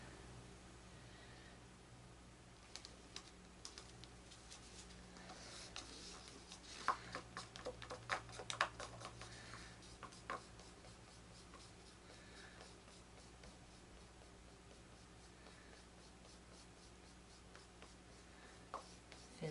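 Colored pencil shading on paper, faint soft scratchy strokes in an irregular rhythm, quiet and close with a low background hum.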